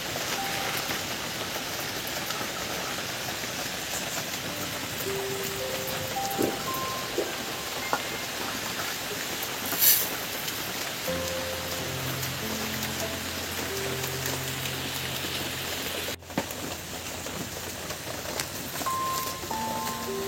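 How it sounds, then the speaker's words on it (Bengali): Steady rain hisses continuously throughout, with faint tonal sounds drifting in and out in the background. "লাগাতার বৃষ্টি চলছে"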